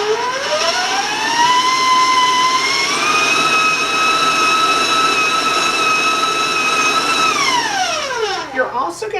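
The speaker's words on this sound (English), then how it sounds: "Warn you about the sound of the mixer." An electric mixer beats molasses into cookie dough with a loud, steady motor whine that climbs in pitch as it speeds up, holds for several seconds, then winds down at the end.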